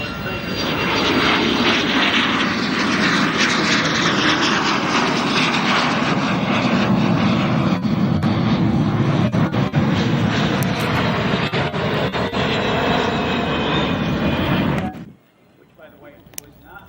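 A fixed-wing aircraft roars loudly and steadily overhead at the EAA AirVenture Oshkosh airshow, with a C-17 in Thunderbird colors named nearby; the dense engine noise holds for about fifteen seconds, then cuts off abruptly into quiet crowd ambience.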